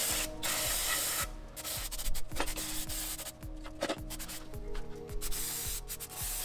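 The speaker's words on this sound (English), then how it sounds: "I went ahead and hit it with a brake cleaner one time, then I'll move on to using a wire brush and a screwdriver for scraping" Brake cleaner sprayed onto caked golf cart brake housing parts, then scrubbed with a wire brush and scraped with a screwdriver; steady hissing and rasping strokes continue throughout at close range, with no talking.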